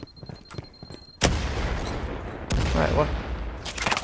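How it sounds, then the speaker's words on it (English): Gunfire in the video game Firewall Zero Hour, a loud sustained burst of shots starting partway in and continuing with dense impacts, with a second louder volley near the end, under brief talk. "Oh, I'm getting shot from behind!"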